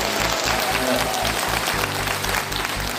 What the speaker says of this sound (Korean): 다시 한번 박수 한번 부탁드릴게요